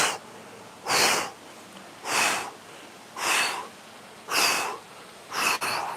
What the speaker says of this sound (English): And then a couple of forceful exhales as you go back up